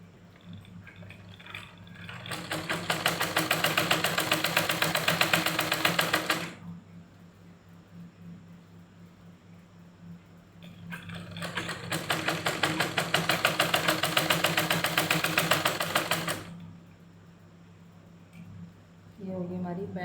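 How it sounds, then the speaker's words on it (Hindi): Sewing machine stitching the pleat seam of a Patiala salwar, two long steady bursts of fast, rhythmic rattling needle strokes, close and fairly loud, separated by quieter pauses with a low hum. "अब करेंगे दबावट की सिलाई।"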